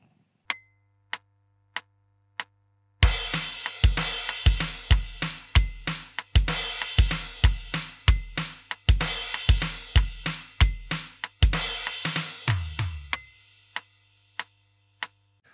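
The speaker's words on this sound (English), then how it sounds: "So let's play this line, the bridge and the transition at the end," A rock drum kit starts with a few sparse cymbal ticks, then plays a loud, driving bridge groove of kick, snare and crashes, ending with a descending tom fill into the verse before a ringing cymbal fades.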